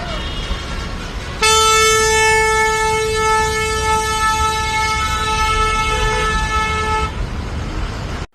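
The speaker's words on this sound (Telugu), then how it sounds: "పతంగి టోల్ గేట్ వద్ద భారీగా ట్రాఫిక్ జామ్ ఏర్పడింది" Vehicle horns in a heavy traffic jam of buses, cars and two-wheelers at the Pathangi toll gate; one loud, steady horn blast sounds close by for about six seconds over a low traffic rumble.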